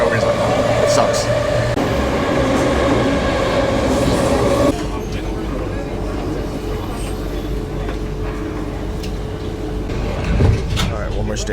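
An Athens metro train riding between stations gives a loud, continuous rumble and rattle that eases to a softer roll partway through, with a voice talking over it.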